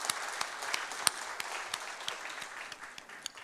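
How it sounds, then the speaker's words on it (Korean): A congregation applauds together at a Friday evening church worship service, a steady wash of many hands clapping at moderate distance with a few sharper individual claps standing out, no talking over it. "우리 박수로 격려하겠습니다."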